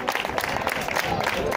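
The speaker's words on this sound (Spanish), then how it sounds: "cómo aplaude la gente" Crowd clapping at a cycling awards ceremony for the Challenge Ciclista Salamanca, a dense, steady patter of applause heard up close throughout.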